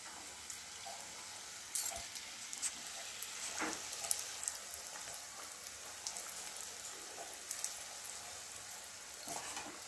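Chicken cutlets fry in hot oil, giving a continuous fine crackling sizzle with scattered sharper pops, close and fairly quiet, with no talking.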